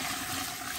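Water pours into a cooking pot over meat and collard greens, producing a soft, steady rushing trickle that stays faint and continuous without speech.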